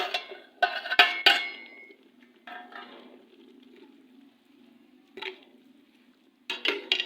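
Turmeric and red chili are stirred into beef mince in a pan with a spoon, making sharp clinks and scrapes against the metal in short bursts separated by quiet pauses.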